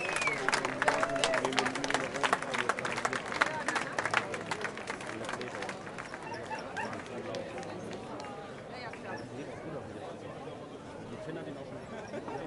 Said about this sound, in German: Und einen dicken Applaus an die Teilnehmer.